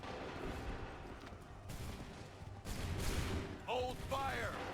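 Soldiers' musket volley in Assassin's Creed III, dense crackling gunfire rolling in overlapping bursts with a constant battlefield roar, shouted voices breaking through near the end.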